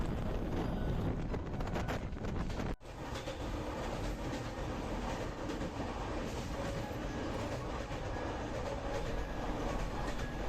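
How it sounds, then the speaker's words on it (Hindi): Brahmaputra Mail express train running at high speed between Kamakhya and Delhi, a loud, steady roar of wheels and rushing wind heard from inside the carriage, with a brief dip before the rumble carries on unbroken. "इस समय ट्रेन की स्पीड काफ़ी ज़्यादा थी"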